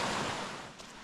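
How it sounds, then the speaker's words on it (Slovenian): A small waterfall on a mountain stream on Bohor in Slovenia pours a steady, broadband rush of falling water, close and continuous throughout. "tukaj je ta slapek"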